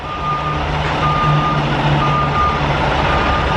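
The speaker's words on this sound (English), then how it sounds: "That's a big tow truck." Large tow truck backing up, its reversing alarm beeping in a steady repeating rhythm over a loud, close diesel engine drone, no voices.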